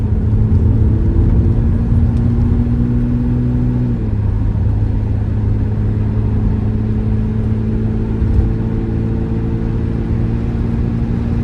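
A 1980 BMW 635 CSi E24 with automatic transmission idles steadily, its engine giving a loud, even hum and rumble close by, with a slight drop in pitch partway through and no voices.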